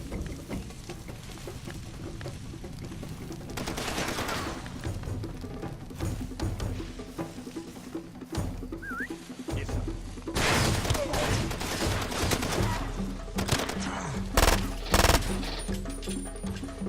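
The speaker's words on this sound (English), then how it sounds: "Not sure where I can hear more bullets coming from." Far Cry 2 gunfight with bursts of rapid shots and scattered thuds against a busy in-game background, loudest in clusters toward the end.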